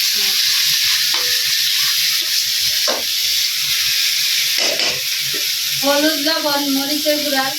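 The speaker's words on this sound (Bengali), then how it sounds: "হলুদ একটু সময় নিয়ে কষায় নিতেছে" Onion, ginger and cinnamon paste fries with turmeric in a pan, a continuous loud sizzle broken by scraping stirs, with a voice talking over it toward the end.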